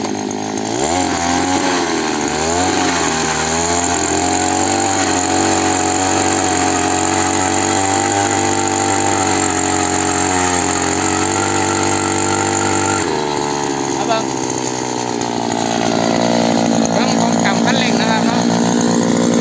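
A cheap petrol-powered earth auger engine runs loud and steady throughout, its drone rising and falling as the throttle is worked, with a brief change in load partway through.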